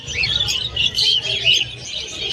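A crowd of budgies, European-type birds at a pet market in Malabon, keeps up a dense, continuous twittering and chirping close by, bright and busy, with no clear talk over it.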